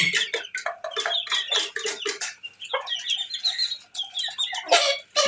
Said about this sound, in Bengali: আপনার ফার্মি মুরগির বাচ্চা।